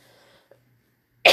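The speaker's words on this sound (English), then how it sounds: "So you guys have to hear me cough this entire video." After near silence, one sharp, close cough breaks out at the very end and is cut off abruptly.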